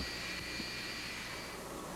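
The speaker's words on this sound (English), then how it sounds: "For example, this airplane has just landed." A jet airliner just landed on a wet, humid day above freezing gives a steady, even engine roar and whine, continuous and moderately distant, with no talk over it.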